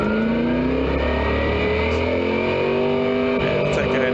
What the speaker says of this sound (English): Race car's pulling off.